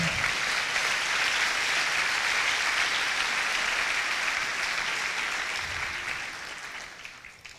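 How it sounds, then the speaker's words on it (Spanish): A church congregation claps, a broad sustained applause from many hands that holds steady and then tapers off toward the end. "ese aplauso para el Señor"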